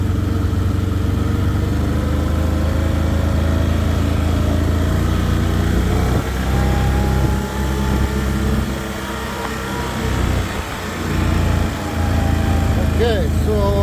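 A tractor with a mower attached runs steadily and loudly throughout, its engine drone continuous with a slight dip in the middle, while mowing tall grass on a deer food plot.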